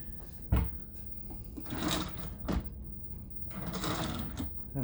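Drawers in a deluxe ocean-view cruise ship cabin aboard the Carnival Magic are pulled open and pushed shut, giving a few sliding rumbles and sharp knocks spread over several seconds.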